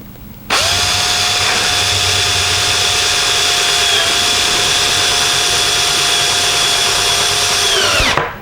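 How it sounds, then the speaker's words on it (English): A power drill drives a screw into PVC pipe, one sustained loud whirring run of about eight seconds with a steady pitch that dips slightly before winding down. "and just drill it in. Don't over torque it or anything like that."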